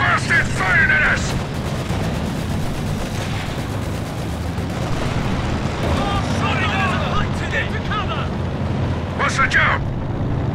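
Gunfire in Company of Heroes 2, Fields of Winnekendonk battle with Royal Engineers, as rapid rattling bursts and distant booms roll under a dense battlefield din, sharper volleys flaring near the start and end.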